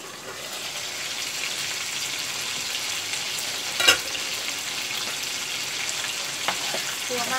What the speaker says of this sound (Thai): กลัวมากเลยเวลากระเด็นเวลาทอดอะไรอย่างเงี้ย